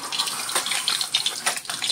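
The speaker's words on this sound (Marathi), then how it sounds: "जरासा पाण्याचा अंश होता त्यामुळे हे तडतडतं आहे" Hot oil heating in a pan before tempering, crackling and spitting with irregular sharp pops from a trace of water, close and fairly steady without any talk.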